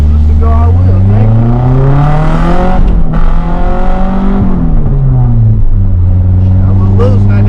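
A Nissan 240SX engine revs hard while street drifting on wet roads in the rain, loud rising and falling pulls close up throughout, with a brief lift off the throttle midway.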